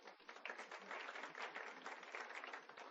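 Scattered audience clapping for an honoree at a school district foundation superintendent's breakfast, a continuous soft wash of hands that rises and falls slightly, faint and distant.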